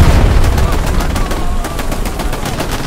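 Artillery and automatic gunfire from the World War II shooter Hell Let Loose, fighting around Sainte-Mère-Église, rumble as a dense barrage of close, loud booms and rapid bursts, with repeated impacts crowding together throughout.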